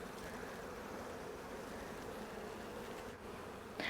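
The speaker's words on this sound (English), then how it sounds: "bees were affecting the camera person" Honeybees around a comb honey hive, giving a soft, continuous buzzing drone that holds steady at a faint level throughout.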